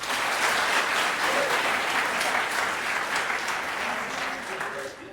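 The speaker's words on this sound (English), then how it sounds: "Clap if you were not alive in the 1980s" A concert audience at a barbershop quartet show claps continuously in a thick, even wash, loud from the start and tapering slightly near the end, with faint voices mixed in.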